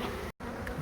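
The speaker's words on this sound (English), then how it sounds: "see lots of bees clustering around the queen here" Honeybees swarm and cluster around their queen during a beehive relocation at Wedderburn House, making a close, steady buzzing drone that cuts out for a split second before resuming.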